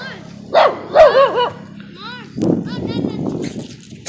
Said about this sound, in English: Little dog following me.